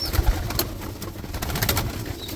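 Young Birmingham Roller pigeons in a training loft give soft low coos, a few close murmuring calls mixed with wing rustles and light knocks, with no talking.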